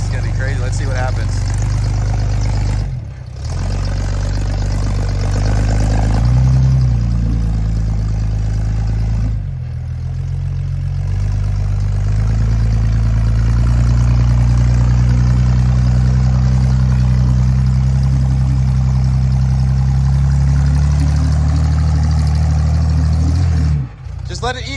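An off-road vehicle on competition tires revs hard in a loud, close, sustained engine roar that rises and falls, with a few brief drops in throttle, while people talk over it.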